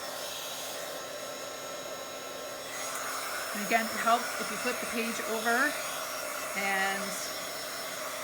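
A hair dryer blows steadily on the back of a Bible journal page, a close, continuous whooshing hum throughout, with a brief spoken word over it.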